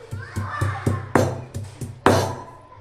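Garlic and onion being ground by hand on a stone grinding slab, giving a series of close, rhythmic scraping and thudding strokes, about eight in under three seconds, with a couple of heavier strokes.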